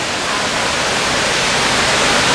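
Waterfall pouring in a broad, steady roar of rushing water, loud and close, continuous with no pauses and no talk over it.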